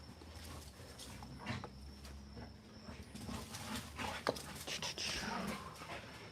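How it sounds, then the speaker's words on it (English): Excited dogs pant and whimper, a faint, close mix of quick breathing and soft whines that grows a little busier toward the end. "good happy dogs"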